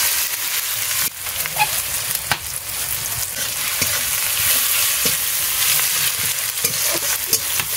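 Onions frying in mustard oil, loud sustained sizzling up close, with frequent scraping and knocking strokes as the pan is stirred throughout.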